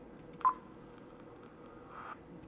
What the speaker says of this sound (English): The little blip, and then a little bit of like record scratchiness.